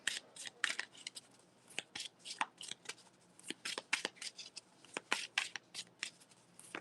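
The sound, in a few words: shuffling a deck of tarot cards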